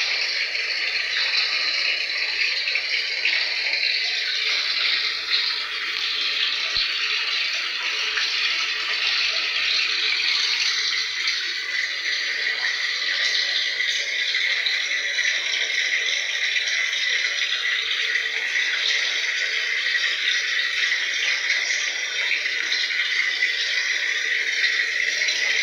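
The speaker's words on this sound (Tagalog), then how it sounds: "Kaya may lakas ng pasok ng tubig niya. So mamaya yan, hihinto kapag naabot na yung water level." Water pouring into a Daewoo automatic washing machine as it fills toward its level, a steady hissing rush with a faint rattle, constant and close for the whole stretch.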